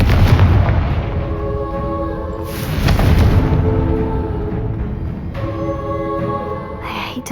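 The Confringo explosion spell in Hogwarts Legacy goes off in booming blasts, a loud burst near the start and another around the middle, with ringing tonal tails between them.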